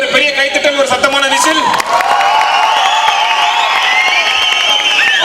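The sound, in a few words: audience applause and loud whistling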